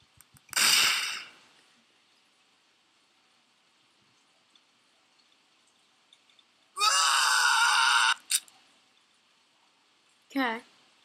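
Cartoon beans screaming as they are clicked in a quirky web game, three separate bursts: a shrill scream near the start, a longer wavering shriek midway, and a short warbling cry at the end, with near silence between.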